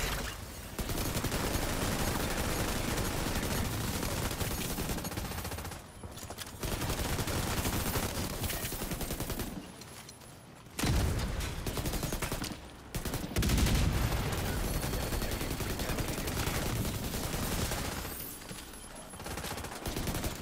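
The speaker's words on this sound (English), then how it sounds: "I got your cover fire." Sustained gunfire from a firefight in the video game The Division 2, with dense, continuous bursts broken by a few brief lulls, loud throughout.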